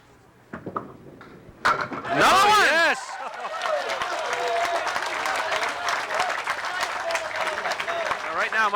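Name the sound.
bowling alley crowd applauding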